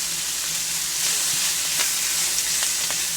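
Vegetables sizzle and crackle loudly in a hot pan, a steady close frying hiss broken by scraping stirs.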